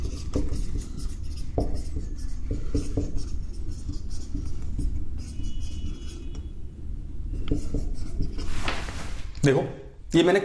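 Marker strokes squeak and tap on a board as chemistry examples are written during a lesson, a run of short scratchy strokes under a man's steady speech, with a sharper burst of writing toward the end.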